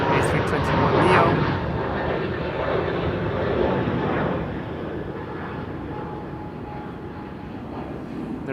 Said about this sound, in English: There's our A321neo.